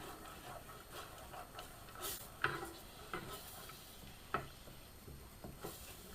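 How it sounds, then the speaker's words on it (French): Soy sauce with basil and nuts being stirred in a pan, quiet scraping and soft sizzling with a few sharp utensil clicks against the pan. "On remue bien."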